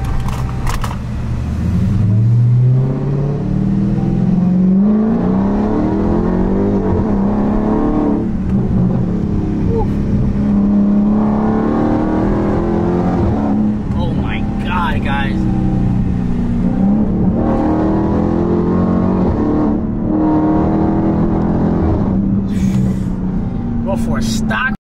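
Straight-piped new Dodge Hellcat engine droning and rising in revs while driving, a loud, continuous low rumble heard from inside the car, with people talking over it throughout.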